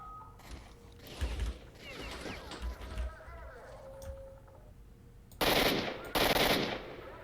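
Rapid automatic gunfire from weapons in the STALKER: Shadow of Chernobyl Enhanced Edition game, sputtering bursts early on, then two loud, dense blasts of fire near the end.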